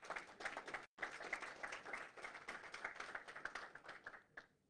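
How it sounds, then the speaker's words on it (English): A room full of people at a 1 Million Cups startup event in Ocala applauds with dense, steady clapping, briefly cut off near the start and then tapering toward the end. "Give them a round of applause, please."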